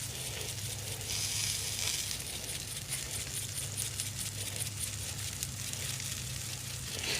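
Steaks cook slowly on a cowboy grill with a steady, fairly quiet sizzle and crackle, a constant hiss with light popping and no talking over it.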